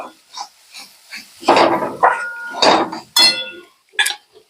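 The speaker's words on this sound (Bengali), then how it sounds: "এবার আমি এর মধ্যে গুঁড়ো সব মশলাগুলো দিয়ে দেবো একসাথে। দিয়ে ভালো করে সমস্ত মশলা নাড়াচাড়া করে মিশিয়ে নেব।" Ground spices being stirred together in a pan for Bengali ghugni, giving a series of scraping, clinking strokes of a utensil against the metal, close and moderately loud, in uneven bursts with short pauses.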